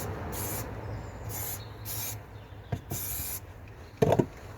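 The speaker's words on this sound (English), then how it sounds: "the aerosol can is starting to run out" A nearly empty aerosol can sprays underbody coating beneath a car in several short hissing bursts, broken by pauses and a few dull knocks and scrapes nearby.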